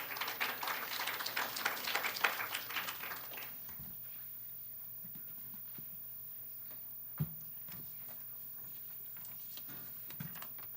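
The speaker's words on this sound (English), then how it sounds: "And let's give them a round of applause." A round of applause for a student team at a nanoscience lab summer institute's final presentations: a moderate burst of clapping for about three seconds that quickly thins out into a quiet room with a few faint knocks.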